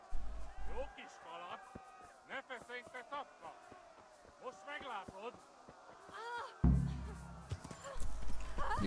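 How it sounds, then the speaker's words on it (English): Horse hooves in Kingdom Come: Deliverance beat out a quick clip-clop rhythm, broken by occasional whinnies and snorts, with voices murmuring over the riding. "We need to gallop her."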